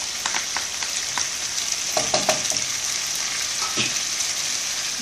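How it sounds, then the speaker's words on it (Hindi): Chicken pieces frying in a pan for a Hindi-Urdu butter chicken recipe, giving a continuous close sizzle with scattered crackles and pops and occasional stirring scrapes, with no talking. "बस 1 से 2 मिनट चिकन को ऐसे भूनना है, इसका कलर चेंज हो जाएगा।"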